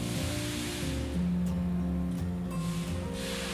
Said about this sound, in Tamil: கடாயில் நல்லா எண்ணெய் காஞ்சதும் பூரியை போடுங்க. நல்லா பூரி வெந்து மேலே வருது.